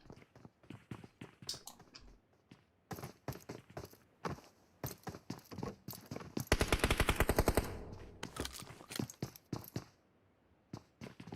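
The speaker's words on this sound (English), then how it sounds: "Trying to hit him with the shotgun." Gunfire in PUBG Mobile, with separate shotgun blasts and single shots giving way to a long rapid automatic burst, then more scattered shots, loud and close with footsteps between them.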